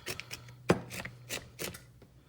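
A regular butcher knife chops through pecans on a cutting board in a few sharp, separate knocks, with one loud strike standing out among softer cuts, close and with no voices.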